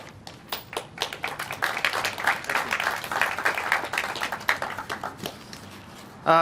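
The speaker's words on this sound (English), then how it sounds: "Let's do one more round of applause to celebrate this milestone." An audience applauds at a civic event celebrating a building renovation milestone, a steady burst of clapping at moderate distance, with no voices.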